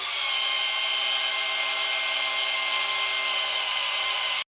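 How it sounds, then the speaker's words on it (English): A power drill on a FlexArm drills a hole, whirring continuously at a steady high pitch for several seconds, loud and close, then cuts off abruptly. "very simple to drill a hole. You just mark it to the spot and drill away."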